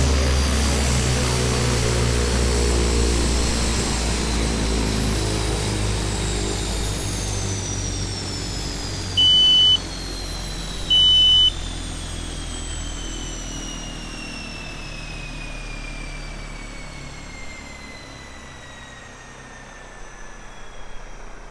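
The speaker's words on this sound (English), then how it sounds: "you can hear a nice like warbling from the propellers as the wind as they slow down" Carenado Cheyenne III turboprop propellers in Prepar3D winding down after shutdown, a whooshing warble with steadily falling pitch that fades over about twenty seconds, plus two brief beeps partway through.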